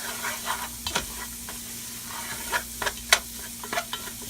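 Green peppers, onions and celery sweating with flour in a pan for a gumbo, a soft steady sizzle and hiss with scattered scraping stirs of a spoon.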